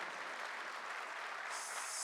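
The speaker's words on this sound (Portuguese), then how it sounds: "Pedir uma salva de palmas calorosa à nossa ministra." An audience at a ceremony for a new Brazilian planning minister applauds her warmly, a steady wash of clapping heard from a distance, faint and unbroken.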